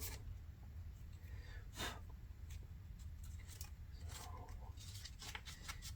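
Faint rasping strokes of regular dry sandpaper on bare plastic scale model parts, soft intermittent scrubs over a low steady hum.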